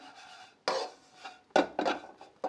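Lotus kunafa is stirred in a pan with ghee, giving repeated scraping, rasping strokes of a utensil against the metal with short pauses between them, close and fairly quiet.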